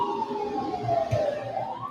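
Emergency vehicle siren wailing at moderate distance, a single smooth tone gliding down then rising again, with faint background noise.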